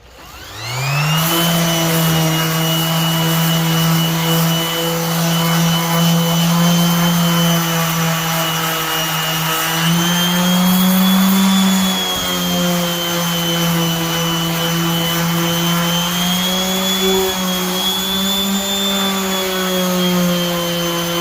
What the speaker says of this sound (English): let's go ahead and use the orbital sander hopefully one more time